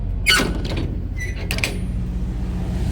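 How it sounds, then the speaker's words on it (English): Rear doors of a refrigerated reefer truck trailer being opened, a few clanking metallic thumps and latch sounds over a steady low engine or reefer unit hum. "Now open the doors."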